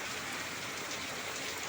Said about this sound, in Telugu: వాళ్ళ పెద్ద వాన వచ్చింది.